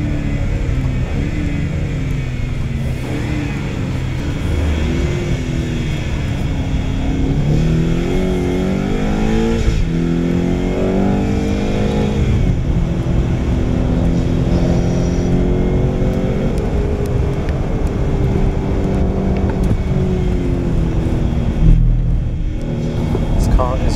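A BMW X6 M drives hard on the Circuit of the Americas track, its engine droning and revving up and down continuously through gear changes, with people talking over the cabin noise throughout.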